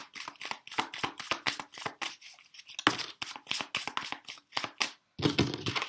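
A traditional Rider-Waite tarot deck being shuffled by hand, a steady run of crisp card riffles and slaps in quick rhythmic bursts, close and fairly loud, with a brief pause midway and no talking.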